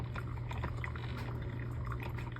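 Drew Barrymore coffee maker dispensing brewed coffee, a steady close liquid stream trickling and spattering over a constant low machine hum, with no talking.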